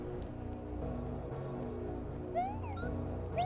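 A cat meows indoors, two short rising meows, the second at the very end, heard fairly clearly over a quiet background hum.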